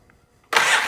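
A Polaris Sportsman 700 ATV starter cranks the engine in a sudden loud burst after near silence, close and harsh, with no talk over it.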